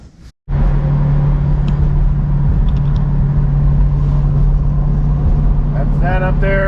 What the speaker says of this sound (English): That AMC is on the road again.